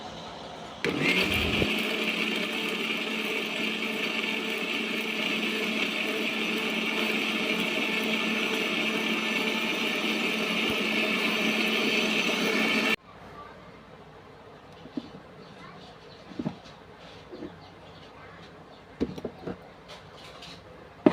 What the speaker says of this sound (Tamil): மிக்சியில் வந்து இந்த மாதிரி நல்லா மைல் பேஸ்ட்டாக அரைச்சி எடுத்துக்கணும்